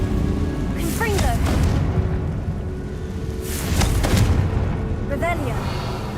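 Confringo blast spells go off in a Harry Potter video game, a loud booming burst near the start and another about four seconds in, over a dense rumbling game soundscape with swishing effects, while someone speaks.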